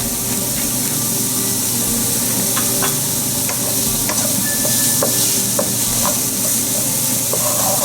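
Onions for shish barak fry in a pan, softening and turning color, with a loud, close, continuous sizzle and repeated scraping stirs of a utensil across the pan, no voices.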